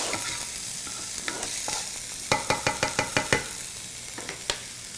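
Food for Moroccan-style vegetarian dishes sizzles in a pan over high heat, a steady frying hiss broken by a quick run of sharp utensil scrapes and taps as it is stirred, with no voices.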